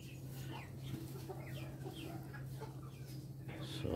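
Laying hens, Dekalb Brown and Dominant cross birds, cluck softly in a coop, with scattered low calls over a steady hum, faint and somewhat distant.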